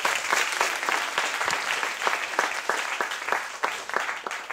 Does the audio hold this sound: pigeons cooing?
no